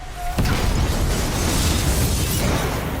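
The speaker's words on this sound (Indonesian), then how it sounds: "suara ledakan tersebut sampai terdengar langsung" A homemade bomb goes off, a sudden loud blast after a brief quiet moment, then a dense roaring rumble of the explosion carries on for several seconds.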